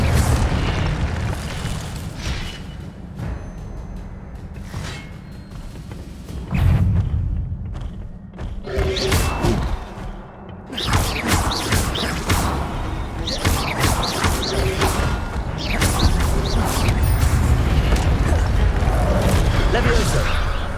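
Fire spell blasts in Hogwarts Legacy cast repeatedly during wand combat, heavy booming bursts and thuds over a dense, loud battle din with voices talking throughout.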